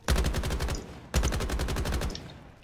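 Loud rapid bursts of automatic gunfire in Call of Duty Black Ops, two sustained strings of shots separated by a brief pause, close and dominant with no talking.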